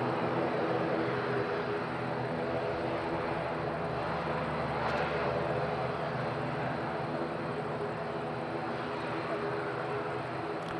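A Binter airliner landing at Madeira Island Airport in gusty wind produces a steady, distant engine drone with broadband wind rush, while a voice talks faintly over it.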